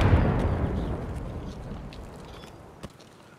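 A grenade explodes in a first-person shooter, a loud low rumbling blast at the start that decays over a few seconds, followed by a brief sharp pop near the end.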